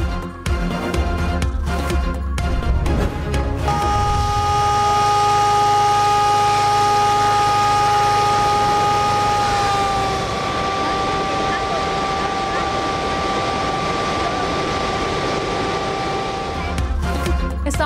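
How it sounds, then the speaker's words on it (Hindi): A steady wailing flood warning siren tone holds for over ten seconds, loud and sustained, with low rumbling noise at the start and end. "इतराफ की आबादी को सायरन बजाकर अलर्ट किया गया।"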